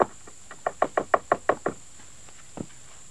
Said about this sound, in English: I'm going to loosen up these pieces of rebar, hopefully, and get this wood out of here